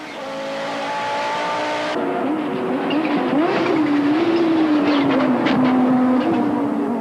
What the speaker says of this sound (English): We're riding with Larry Wilford in the Sabat Audi